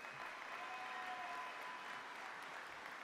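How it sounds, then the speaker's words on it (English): Steady crowd applause at Governor Cuomo's get-out-the-vote rally in Buffalo, a dense even wash of clapping that sounds distant and fairly faint and keeps going without a break. "Let's give them a round of applause."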